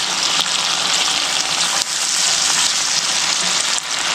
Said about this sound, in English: And my potatoes.